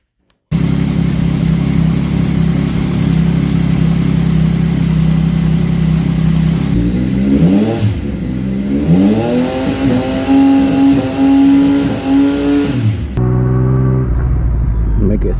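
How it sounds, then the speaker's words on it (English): A Yamaha FZ-09 motorcycle engine runs at a loud, steady idle close by, then revs up and down in several rising swells before settling, with someone talking over it. "What I'm going to do is to turn the bike on before I connect"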